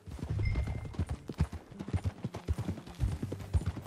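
Horse hooves clip-clop at a brisk, rhythmic pace in Red Dead Redemption 2, several animals riding together, loud and close, with faint background game sound.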